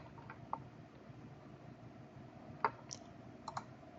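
A computer mouse clicks a few times, faint, sparse ticks over a quiet background hum.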